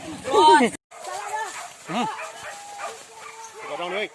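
A dog barks loudly in a short burst at the start, then goes quiet while people keep talking nearby.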